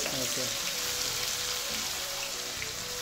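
Mutton for pickle frying in oil in a pan, a steady soft sizzle with a faint crackle running throughout, quiet and continuous, with low background hum.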